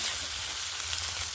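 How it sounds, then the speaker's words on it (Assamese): Small fish sizzle and fry steadily in a pan of hot oil, a close, continuous hiss with no talking. "এনেকৈ ভাজি ল'ম দেই।"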